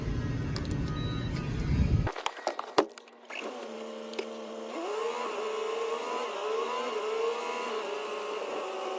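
A truck drives in through a refinery gate on the way to load asphalt: a steady engine rumble and road noise, a few clicks and knocks midway, then a rising whining engine tone as it pulls ahead.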